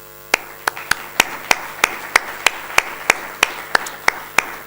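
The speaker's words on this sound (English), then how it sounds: "So I wanted to give them a round of applause." Audience applause for the local organizers of a summer school event: about fourteen sharp, evenly spaced claps in a steady rhythm, sounding more like a single clapper or a small group than a full crowd, with no talk over them.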